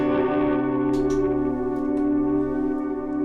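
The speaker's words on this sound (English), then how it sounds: "for the slow, I use a sustain feature, which basically sounds like this" A guitar effects pedal's sustain feature holds a loud, unbroken, shimmering drone, with faint swells and echoes rising over it and no voices.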